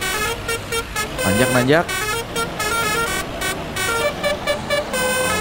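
A basuri horn on a bus plays a tune on the Nagreg road, a loud melodic run of honked notes with a sliding phrase, while voices talk and cheer over it.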